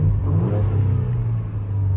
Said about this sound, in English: This engine does sound quite a bit better.